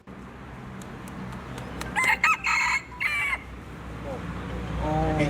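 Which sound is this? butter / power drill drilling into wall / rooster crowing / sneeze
rooster crowing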